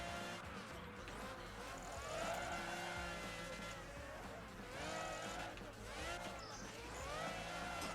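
A Lamborghini race car in the video game Project Gotham Racing 3 drives along a track, engine tone rising and falling through gear changes, with tire squeal and game effects mixed in, moderately loud and continuous.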